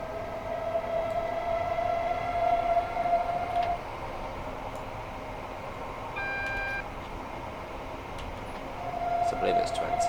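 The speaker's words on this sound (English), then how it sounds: "The motor sounds really strong on this though. Sounds a lot noisier than the the other Electro Stars." A Class 378 Electrostar electric train in Train Simulator Classic, running on the Brighton Main Line, gives a steady traction motor drone with a rumbling rolling hum, a sustained whine rising and falling, and brief electronic beeps.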